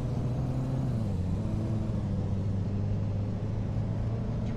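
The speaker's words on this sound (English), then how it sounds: "But this is how a CVT goes." Steady engine drone of a car with a CVT transmission driving in the video game Greenville, holding a nearly constant pitch with slight shifts, continuous and moderately loud with no talking.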